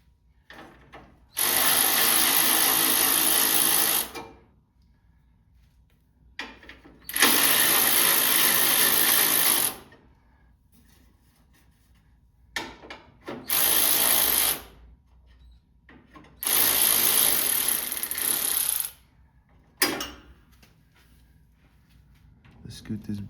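Bolts on the hood latch bracket of a Nissan D21 pickup being removed with a power drill or impact driver, four loud whirring bursts of a few seconds each, separated by pauses with faint talk in between.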